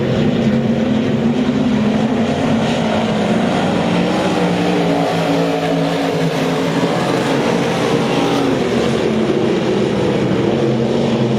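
IMCA touring stock cars race on a dirt oval in a feature event, a dense, continuous engine roar from several cars running single file out of the corner, loud and steady throughout with no talk.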